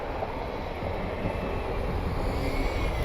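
A Delta airliner takes off at Cleveland airport in the evening, a steady, broad jet engine roar that holds fairly loud and even throughout, with no talk.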